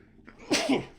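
A single sharp human sneeze bursts out close to the mic in a quiet room, one explosive puff with a short breathy lead-in.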